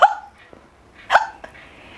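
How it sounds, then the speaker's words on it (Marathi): Two sharp hiccups about a second apart, close and clear, with faint small sounds between them. "असा सडनली एका स्पाझममध्ये जातो तेव्हा उचकीचा आवाज निघतो"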